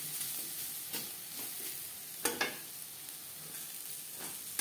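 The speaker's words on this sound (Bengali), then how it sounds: "উচ্ছে ভাজা হয়ে গেছে," Bitter gourd slices fry in oil with turmeric in a pan, giving a steady close sizzle broken by a few louder scraping stirs.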